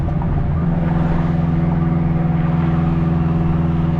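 A straight-piped, all-wheel-drive 2002 Acura RSX Type-S tuned to 800 horsepower accelerates hard, its engine roaring loud and continuous with a raspy, steady drone heard from inside.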